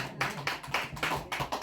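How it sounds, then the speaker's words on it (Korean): Congregation clapping in praise during a Korean church prayer service, a few irregular bursts of hand claps with a low hum beneath. "주님께 영광의 박수 올려드리겠습니다"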